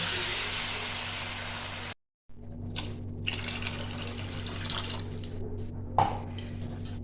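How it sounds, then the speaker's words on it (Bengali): Water poured into a pot of lightly fried rice for Basanti Pulao, a steady close gushing pour that halts briefly, then goes on as splashes and drips against a low kitchen hum. "এবার আমি দিয়ে দেবো জল।"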